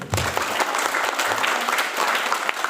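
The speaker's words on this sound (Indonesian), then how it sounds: "Tepuk tangan sekali lagi." An audience at a gathering for Christian teachers gives a round of applause, a dense, steady wash of many hands clapping at once, fairly even in loudness throughout.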